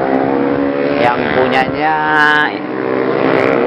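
A 2020 Yamaha R1M superbike with full carbon bodywork and a Suter Moto2 swingarm revs at the Sentul circuit, its engine note rising and falling loudly and close while someone talks over it.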